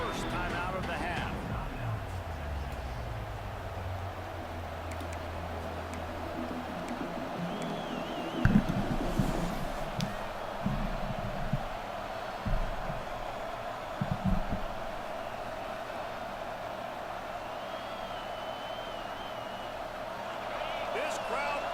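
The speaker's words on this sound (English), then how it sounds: "This crowd bringing the energy and noise early." Steady roar of a large stadium crowd in a Madden football video game throughout, with a few brief thuds and bursts of activity rising above the constant din.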